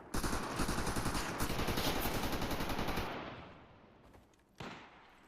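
Rapid automatic gunfire rattles in a Wardogs video game match, a loud, dense burst lasting about three seconds that then tapers off, followed by a single sharp shot near the end.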